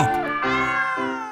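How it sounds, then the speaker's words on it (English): A single cat meow, drawn out and rising then falling, close and clear with no other sounds. "Cat."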